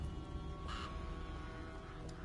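Crows caw in the video game Alone in the Dark, a harsh call standing out over a dense, steady ambient game soundscape, with another faint caw near the end.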